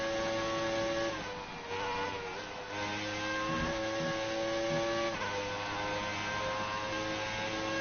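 A Formula 1 race car in the F1 2019 video game drives a track, its engine holding a steady, loud drone with pitch shifts as it runs through corners, and the tyres squeal faintly under load.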